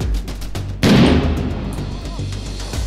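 A grenade blast in the combat game Six Days in Fallujah lands as one loud, sudden burst with a heavy low thump, then a long rumbling decay, with game ambience and faint gunfire around it.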